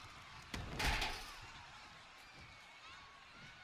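In the WWE 2K20 wrestling video game, a wrestler is slammed into a chair, making one sharp loud crash followed by a rumbling thud that fades into a quiet game-crowd background.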